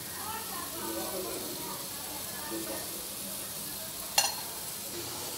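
Ragi paniyaram batter sizzles steadily in a hot oiled paniyaram pan, a constant frying hiss with a brief sharp clink near the end; a voice talks over it.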